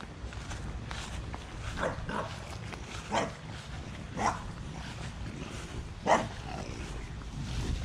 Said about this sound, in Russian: Английский бульдог.